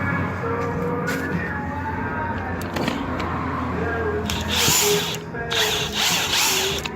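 Ratchet loosening 15 mm bolts at the belt tensioner of a 1995-2005 Chevy Cavalier, with rapid clicking and mechanical rattles amid garage noise, the sound building louder and busier toward the end.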